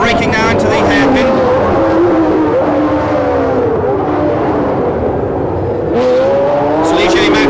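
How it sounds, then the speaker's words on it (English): Ligier Matra Formula 1 race car at about 170 mph, wheel to wheel with a rival and braking into a hairpin, heard as loud, high-revving engines rising and falling in pitch under continuous excited commentary. "look at the speed of that Matra engine, going past Jean-Pierre Jarier"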